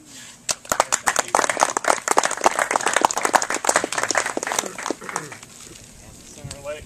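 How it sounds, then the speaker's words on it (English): A crowd at a 2012 political campaign event applauds a newly elected state senator, with dense, steady clapping that swells in and runs for several seconds before thinning out, while voices talk over it. "let's give him a round of applause"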